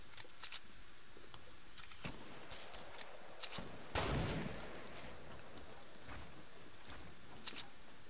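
Sniper rifle shots in a Fortnite Battle Royale squads match, several sharp cracks at irregular intervals, with one louder, closer blast midway among fainter distant reports.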